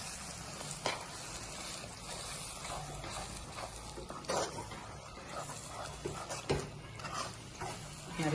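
Milk and roasted gram being stirred in a pan over a low flame, a steady soft scraping and faint sizzle running throughout with a few sharper clinks of the spoon.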